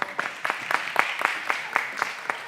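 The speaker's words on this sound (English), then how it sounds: "Please give them a round of applause." An audience at a Film and Publication Board visit to UFS gives a round of applause, with steady, moderately close clapping that rises in irregular bursts under a faint murmur of voices.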